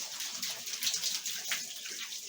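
Hot running tap water streams steadily while hands are scrubbed clean, a continuous close splashing hiss with small surges and no voices.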